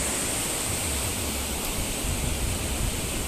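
A waterfall pours down with water flowing in a constant, dense, loud roar that stays even throughout, with no voices.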